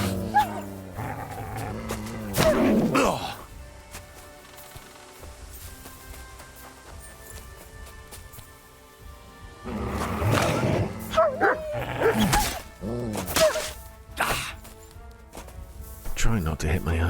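A dog barks repeatedly while fighting wolves in Kingdom Come: Deliverance 2, with sharp bursts of barking and yips in two clusters and game noise in between, and someone talks over parts of it.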